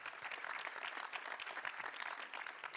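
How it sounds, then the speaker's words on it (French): Audience applauding a panel at the close of a discussion on nuclear energy, a continuous, even patter of many hands clapping, heard faint and somewhat distant throughout. "Je pense qu'on peut tous les applaudir."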